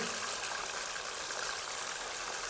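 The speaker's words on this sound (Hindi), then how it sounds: "ऑयल में डालेंगे आलू" Potato pieces frying in hot oil in a wok for an aloo baingan dish, producing a dense, steady hiss and sizzle close by, with no talking.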